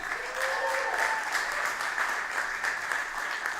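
Steady audience applause after a variety show performance by a vocal group, a continuous wash of many hands clapping with no voices over it.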